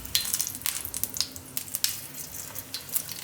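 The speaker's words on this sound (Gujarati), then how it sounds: "તો તેલ ગરમ થઈ ગયું છે તો થોડીક રાઈ નાખશું એમાં આપણે" Mustard seeds crackle and sizzle in hot oil in a home kitchen, with quick sharp pops scattered over a steady frying hiss, close and moderately loud.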